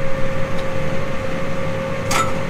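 A single sharp clack from the net cutter on a hay baler, coming near the end after a steady low machinery hum and a brief earlier tick.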